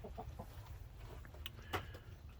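Rhode Island Red chickens clucking in a coop, soft scattered clucks and low murmurs at a modest distance, with a sharper squawk near the end over a quiet background.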